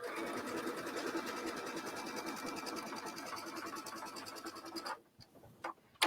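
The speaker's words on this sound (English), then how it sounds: "So I'm going to sew this, actually going this way from this point here down." Sewing machine stitching quilt fabric, a steady rapid needle rhythm running continuously up close, then stopping abruptly near the end with a few brief mechanical bursts.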